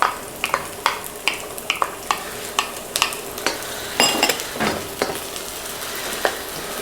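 Onion being stirred in a hot pan with garlic while cooking ginataang alimasag, with a rhythmic series of close spatula scrapes and clinks over a steady sizzle and no voices.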